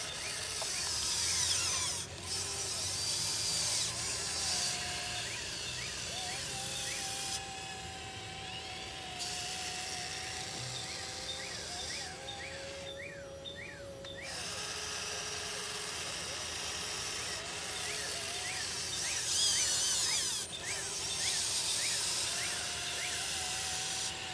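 A small RC excavator digs with a steady whine of its electric hydraulic pump, whose pitch shifts as the sticks move, giving brief pauses, rising strains and a constant mechanical buzz underneath.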